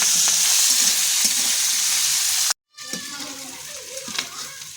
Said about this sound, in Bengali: দিয়ে এখন আমি কিন্তু নেড়ে নেব।